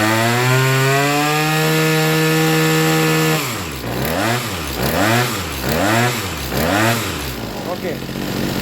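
A small two-stroke engine, likely a chainsaw or similar tool, idles steadily, then revs up and down in four rhythmic throttle bursts while its carburetor is being adjusted, loud and close.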